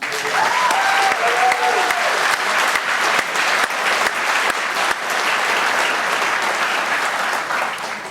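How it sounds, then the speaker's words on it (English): A dinner audience breaks into loud, sustained applause, many hands clapping in a dense, even roar for several seconds before it starts to taper off at the end. "How about a round of applause?"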